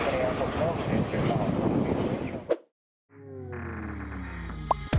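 A Boeing airliner landing in strong gusty wind, with a loud roar of wind buffeting the microphone, then a brief silence, then a steady jet engine whine with rising and falling tones.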